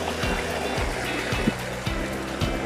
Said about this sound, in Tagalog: medyo dandahan lang tayo dito kasi masyadong malakas yung tubig, yung agos